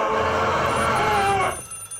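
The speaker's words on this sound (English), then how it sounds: "the phone's ringing, so I must be able to do something." A telephone rings in the Maid of Sker horror video game, a steady electronic ring for about a second and a half before cutting off, loud and close.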